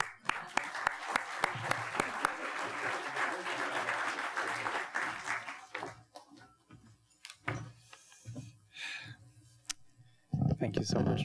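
Audience at an awards ceremony applauding to welcome a speaker, a burst of dense clapping that thins out into scattered claps, followed by shuffling and a voice starting to speak.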